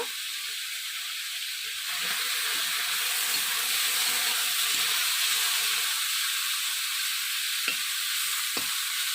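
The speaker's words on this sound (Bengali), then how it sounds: "মাছগুলোকে হালকা করে ভেজে নিব" Fish fries lightly in a pan, a continuous hissing sizzle that swells after a quieter start and carries on steadily, with a couple of brief sharp crackles near the end and no voices.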